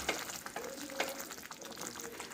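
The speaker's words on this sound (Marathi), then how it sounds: "नंतर आमचूर पावडर व गरम मसाला 1 चमचा घालून व्यवस्थित मिक्स करून घ्यावे" Bitter gourd curry being mixed in a pan with amchur powder and garam masala, a faint soft sizzle with light spoon scrapes and taps, close and without talk.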